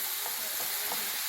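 A filling sautéing in olive oil, giving a steady hiss of sizzling with soft bubbling textures and no talk, over a very short stretch.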